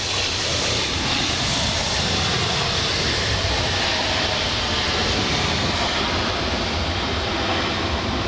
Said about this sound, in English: Such a beautiful livery, the Virgin Atlantic it really A350, is.